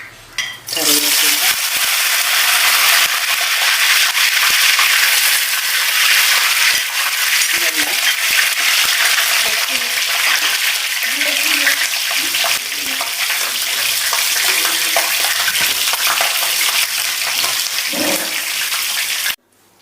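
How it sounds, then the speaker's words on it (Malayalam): Yam pieces fry in hot oil in a home kitchen, a loud continuous sizzle with stirring scrapes throughout, then cutting off abruptly at the end; a voice talks faintly underneath. "നമുക്ക് ചേന പൊരിച്ചെടുക്കാം."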